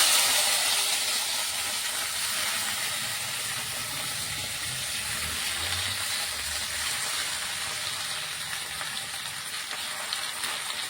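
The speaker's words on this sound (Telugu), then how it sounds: "ఇప్పుడైతే ఆయిల్ వేడెక్కింది అందులో మనము గోంగూర వేసుకోవాలి" Gongura (sorrel) leaves hitting hot oil in a pan, giving a steady, loud hissing sizzle that holds evenly throughout with no talk over it.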